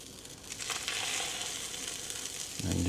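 Parmesan chaffle batter hits a hot Dash Mini waffle maker with a close, hissing sizzle that holds steady, and a low thud sounds near the end.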